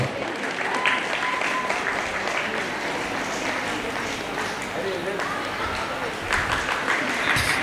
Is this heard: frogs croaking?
no